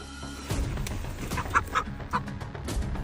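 Hens clucking and squawking nearby in a restless, uneven chorus, with a few sharper calls rising over a low background din.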